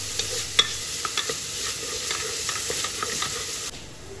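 Crushed ginger and garlic sizzle steadily in a frying pan for a Kerala chicken kurma, with a spoon stirring and scraping in soft irregular clicks and taps over the continuous frying hiss, close and loud.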